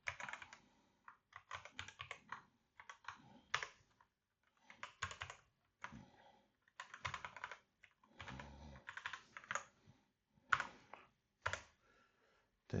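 Fingers type on a computer keyboard in quick, irregular bursts of close, crisp keystrokes separated by short pauses, quiet overall and with no talking.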